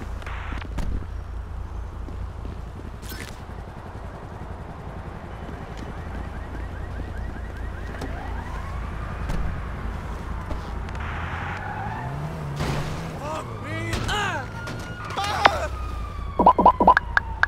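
Police sirens and car engines in Grand Theft Auto V, with rising and falling wails mixed with engine revs and tire noise during a chase, while someone talks over the action.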